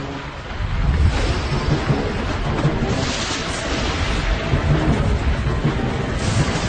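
A heavy thunderstorm roars in a broad, continuous wash of rumbling thunder and wind noise, loud and sustained with no talk over it.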